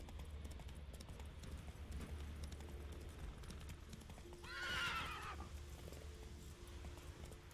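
Roach, a horse in the video game Witcher 3, walks with soft, quiet hoofbeats over rocky ground and gives one short, clear neigh partway through.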